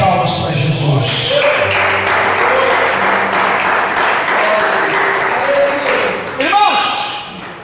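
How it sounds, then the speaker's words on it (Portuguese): A church congregation claps for Jesus during a worship service, a loud sustained wash of hand claps with voices and shouts mixed in, and a few thumps near the end. "bate palmas para Jesus"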